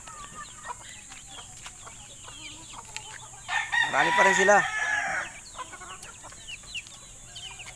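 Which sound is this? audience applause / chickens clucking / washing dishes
chickens clucking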